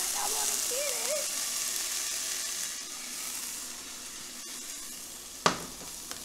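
Onions fry in a pan with a steady soft sizzle, a faint whistle early on and a sharp clink near the end.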